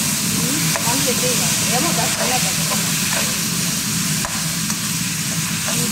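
Tomatoes, ginger and garlic fry in a pan with a constant sizzle. Occasional stirring clinks sound over it and a voice speaks briefly.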